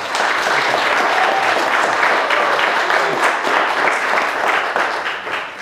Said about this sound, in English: hey Skip, that applause was a little bit louder than it was for me earlier.